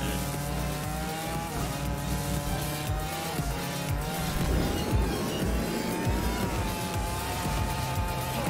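Hot Wheels Unleashed racing game with a drifting toy car, a steady buzzing engine with rising pitch sweeps and tire squeal over a dense game soundtrack, continuous and fairly loud throughout.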